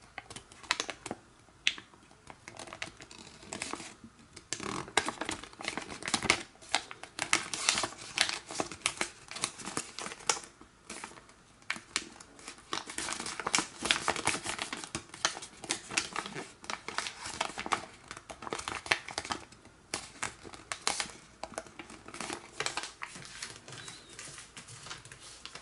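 Paper is creased and folded into an origami cross bookmark, a long run of close, crisp crinkles and sharp snaps that come in irregular bursts with brief pauses between them.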